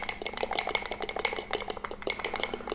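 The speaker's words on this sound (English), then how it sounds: "Just whisk it with a fork." Egg and cream mug cake batter whisked with a fork in a mug: a fast, steady run of close, light metallic clinks and scrapes against the mug, with no talking.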